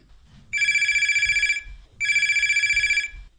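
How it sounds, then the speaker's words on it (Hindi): A telephone rings for an incoming call on a farming advice phone-in radio show, giving two loud, steady electronic trills separated by a short pause, with no talk over them. "धन्यवाद लक्ष्मण भैया, आपने हमारे पे फोन लगा।"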